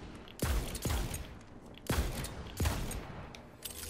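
Torgue gun firing in Tiny Tina's Wonderlands, four heavy explosive shots spaced about a second apart, each a sharp boom with a low rumbling tail, followed by a fainter fifth report.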